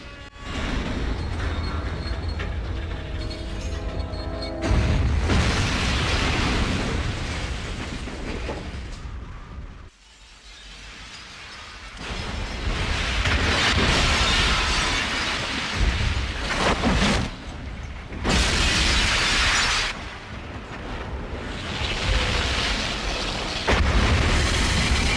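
Explosions destroying the vats in a Fallout game ending, a long series of deep booms and rumbling bursts. They swell and fade in waves with brief quiet gaps.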